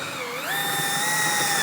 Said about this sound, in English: Right now we're using a 3/16 hole to start it and see how that works out.